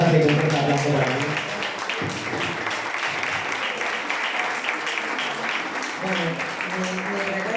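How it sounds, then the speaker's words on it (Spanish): An audience at a book presentation in Alcocer applauds warmly, a steady wash of many hands clapping that rises after a voice and continues with speech faintly audible over it toward the end. "así que un fuerte aplauso para mí"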